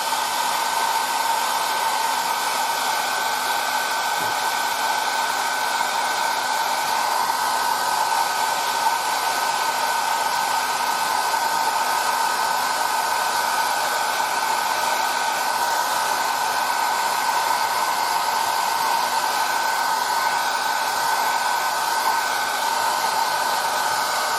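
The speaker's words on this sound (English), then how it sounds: "A dryer." A dryer blows continuously at close range on paint on a 1:35 scale model tank, a steady loud whirring hiss that holds unchanged throughout.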